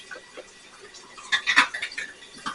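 Metal canning jar lids dropped into warm water in a home kitchen, a few soft clinks and light splashy clatter, faint and close, with no talking.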